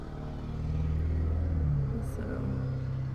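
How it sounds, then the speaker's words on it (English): Road traffic coming through a slightly open window, a steady low rumble of passing vehicles with some engine droning, filling the short stretch without talk. "I do have the window cracked open. Sorry guys, there's gonna be traffic noises."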